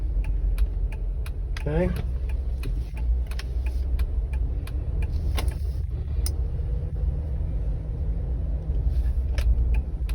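Jeep Wrangler engine running at low RPM while driving, with a hesitation linked to a suspected crankshaft position sensor fault: a steady low cabin rumble with light ticking throughout, and a person says a single word briefly.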